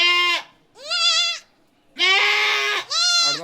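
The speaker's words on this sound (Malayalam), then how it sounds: "നല്ലൊരു അടിപൊളി ആടും കുട്ടി." A goat or kid bleats loudly and close by on a farm, four wavering, drawn-out calls separated by short pauses.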